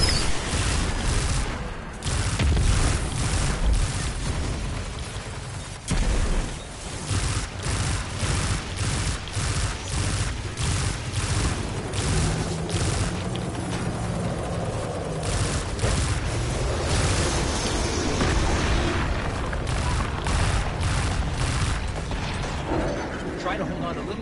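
A burst-fire weapon in Destiny shoots repeated five-round bursts, steady and rapid, with dense mechanical firing and game sound effects continuing throughout at fairly high volume.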